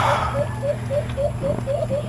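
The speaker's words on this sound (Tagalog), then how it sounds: "nasa pugad lang, tapos pahuni-huni lang ng mahina na yung huni niya" A pigeon sits in its nest cooing softly, a close, regular series of short, gentle coos repeating about four times a second over a low background hum.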